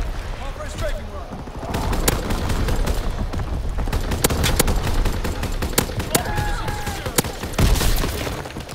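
An artillery barrage pounds away in Call of Duty WW2 gameplay, with a steady roar of rapid gunfire punctuated by sharp, loud blasts and booms, while game voices call out over the noise.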